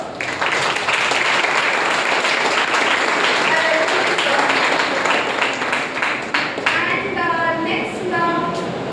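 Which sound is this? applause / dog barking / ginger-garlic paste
applause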